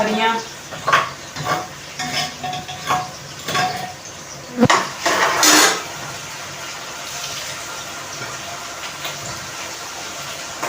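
Cauliflower sabzi (gobi) being cooked in a pan: a few stirring clatters and scrapes over a soft sizzling hiss, louder through the first half, then a steady quiet sizzle with no voices.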